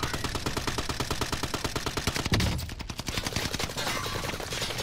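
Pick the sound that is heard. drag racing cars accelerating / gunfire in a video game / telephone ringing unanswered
gunfire in a video game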